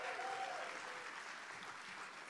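Soft, distant clapping from a choir concert audience at an alumni choir performance, brief and even, heard faintly without any break.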